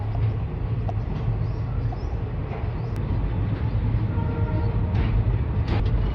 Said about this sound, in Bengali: দুপুর 3:23 ফাইনালি আলিপুরদুয়ার স্টেশন থেকে ট্রেন ছাড়লো